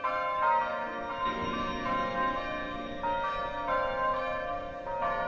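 A church bell, newly installed for a convent of the Sisters of the Visitation in La Pocatière, rings in repeated ringing strokes with overlapping sustained tones, heard alone at moderate volume.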